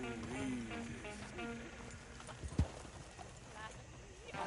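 A horse-drawn coach rolls along in Red Dead Redemption 2, with clopping hooves under loud talk, and a sharp thump partway through.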